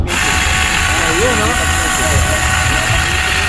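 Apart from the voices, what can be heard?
battery-powered chainsaw running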